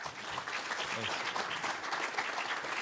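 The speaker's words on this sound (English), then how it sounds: "let's give them a round of applause" Audience applause after a VR tech panel of founders and investors, a fairly faint, continuous patter of clapping with a voice briefly audible.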